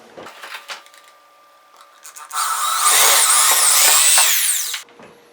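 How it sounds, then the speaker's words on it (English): A power drill whines steadily for a few seconds, its pitch sliding up and down as it bores a hole into a ceiling, with brief handling noises before it starts. "So we're going to go ahead and drill our hole now."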